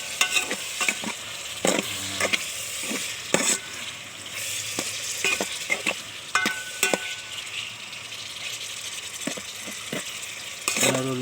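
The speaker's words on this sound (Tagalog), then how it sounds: "So halo-haloin lang natin." A spoon stirs mung bean stew with shrimp and tofu in a pan, giving repeated sharp scrapes and clinks against the metal over a soft, continuous sizzle.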